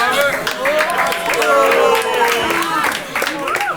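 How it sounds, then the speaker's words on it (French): A comedy-club audience applauds a stand-up joke: a dense, steady patter of claps runs close and loud throughout, with laughter and voices mixed in. "je m'attendais pas à ce que vous applaudissiez à cette vanne"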